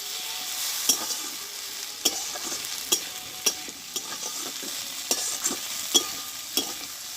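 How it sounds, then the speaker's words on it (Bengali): Tender eggplant frying in a pan, a steady soft sizzle with sharp stirring clicks and taps at irregular intervals, close and alone. "আমি পাঁচ মিনিট মতো আমি এটা ভেজে নেবো"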